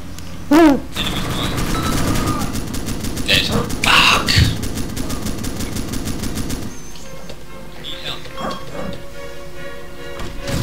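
Gunfire in the military game ArmA 2: rapid automatic bursts and single shots crackling through the scene, mixed with other game noise, while people talk over it.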